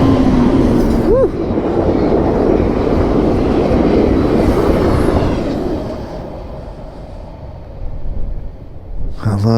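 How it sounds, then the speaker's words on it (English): An Amtrak passenger train rolls past close by, its loud steady rumble and wheel noise dominating, with a short horn-like tone early on before the sound gradually eases off. "Amtrak is moving, man."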